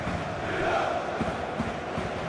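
A stadium crowd at a Champions League football match between Olympiacos and Real Madrid keeps up a loud, steady roar and murmur, with no distinct cheer standing out.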